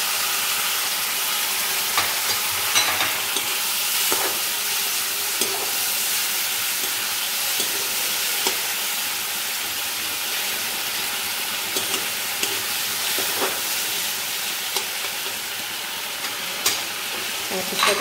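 Sliced onions fry in hot oil for fish kalia, a continuous close sizzle broken by repeated scraping stirs from a spatula throughout.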